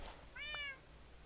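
A cat in Minecraft gives one short, clear, rising-and-falling meow, close and alone against faint background hiss.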